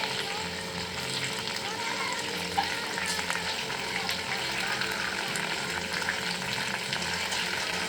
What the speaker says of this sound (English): The chicken has been frying